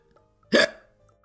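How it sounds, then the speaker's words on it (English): A single short, sharp hiccup sounds once, close and alone against near silence. "Pete still has the hiccups."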